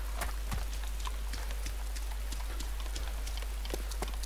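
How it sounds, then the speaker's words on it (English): Light in-game rain in DayZ, a steady soft patter of scattered droplets with occasional sharper taps over a constant low hum, fairly quiet and with no voices. "The rain's not too heavy."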